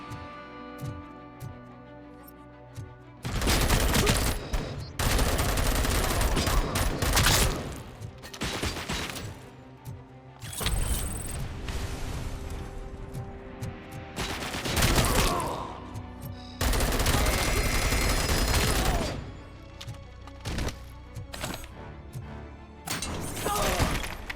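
Bursts of video game weapon fire in a law enforcement shooter, loud rapid volleys and automatic fusillades separated by short quieter gaps with mechanical clicks and thuds.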